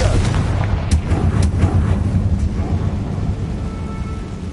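Confringo fire spell from the video game Hogwarts Legacy bursting in a loud, rumbling blast, with a few sharp crackling snaps in the first second before a steady low roar fades.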